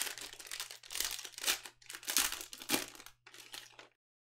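2020 Topps Inception baseball card packs torn open in quick succession, several close crinkly bursts of ripping wrapper separated by short pauses, ending in silence.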